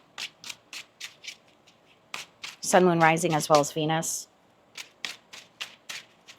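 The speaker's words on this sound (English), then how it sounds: "Let's get one more shuffle" A deck of tarot cards is shuffled in quick riffling bursts, crisp and close, pausing while a person speaks briefly before the shuffling resumes in short repeated strokes.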